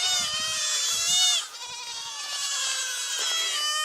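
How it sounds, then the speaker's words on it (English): Several goats bleat in overlapping, wavering cries, loud and close, one call after another with barely a pause between them. "where Reggie takes care of the goats"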